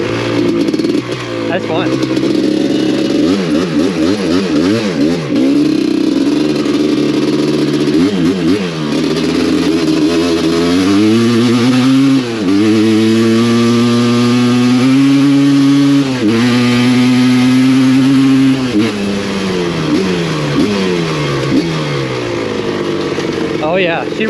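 Suzuki LT250R two-stroke ATV engine revving hard through its power band while riding, loud and close, with rising and falling pitch sweeps across repeated throttle bursts and a brief voice speaking over it.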